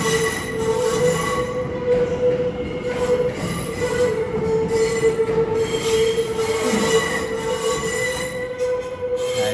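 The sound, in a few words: London Overground train at London terminus, wheels squealing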